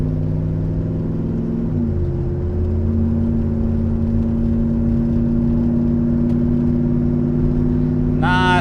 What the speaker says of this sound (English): Let's take her down the road, make sure it's good and quiet, everything's doing like it's supposed to